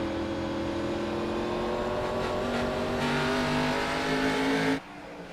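NASCAR Xfinity Series race cars roar around the track at New Hampshire Motor Speedway, a loud sustained engine drone with rising revs, continuous and close, before cutting off abruptly near the end.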